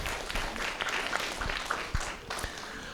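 Audience applause for the speakers at a NASA Mars mission talk event, a steady broadband wash of many hands clapping throughout, moderately loud with no voices over it.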